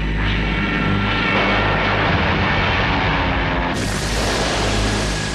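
Propeller towing planes droning loudly overhead, engines laboring through icy weather while pulling gliders, a heavy continuous roar with a sudden brighter surge of noise near the end.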